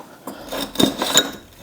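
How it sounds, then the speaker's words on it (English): A rubber mallet taps the axle rod of a Yamaha R6 motorcycle during a rebuild, giving two or three quick, soft dull knocks up close with no talking. "Give the axle rod a good old tap tap so we can grab it on the other side while supporting the wheel."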